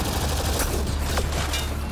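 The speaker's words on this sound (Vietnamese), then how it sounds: "Ô, đây còn cái súng máy nữa" Machine gun fire in the video game Mass Effect: Andromeda, loud bursts of shots with sharp cracks and sweeping whines over a dense, constant game soundscape.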